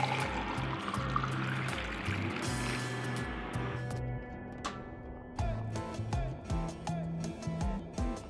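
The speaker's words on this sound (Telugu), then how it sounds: "తర్వాత ఈ జ్యూస్ని గ్లాసులో పోసుకోవాలి." Masala watermelon juice pours steadily into a glass with a close, liquid trickle for a few seconds, then thins to quieter drips and light clinks.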